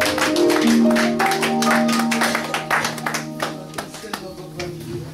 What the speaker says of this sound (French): Applaudissez plus fort, plus fort, plus fort